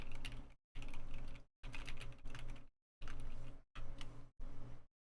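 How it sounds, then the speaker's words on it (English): Close, brisk typing on a computer keyboard comes in several short bursts of rapid clacking keys, separated by brief moments of silence. "if I'm clicking, clacking, if I'm typing on my keyboard."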